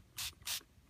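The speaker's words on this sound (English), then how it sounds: "I'm going to spray it with some water." Two short, close hissing bursts from a spray bottle misting water onto an untreated dog leash, separated by a brief pause, in a quiet room.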